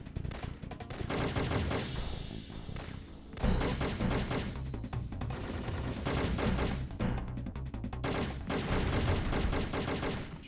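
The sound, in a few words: gunfire from video game Syphon Filter 3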